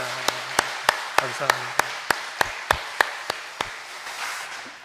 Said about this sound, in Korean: 우리 큰 박수로 영광 올려드리겠습니다